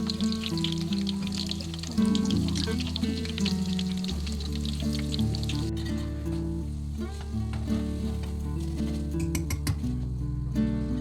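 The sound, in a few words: vegetable pakoras frying in oil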